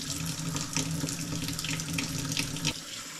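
Tap water runs steadily into a sink as a new diving mask is rinsed under it, a close, continuous splashing rush with slight shifts in the flow and no talking.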